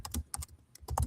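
Typing on a computer keyboard produces a quick run of crisp, close key clicks in uneven bursts, with short pauses between clusters.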